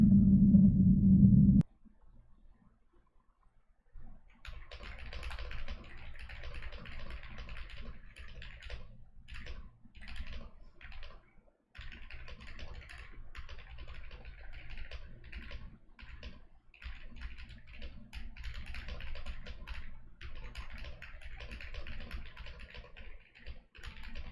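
Steady, rapid keyboard typing clicks away for a long stretch, close and fairly quiet, after a brief low hum at the start.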